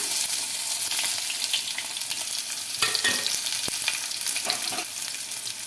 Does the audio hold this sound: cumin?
yes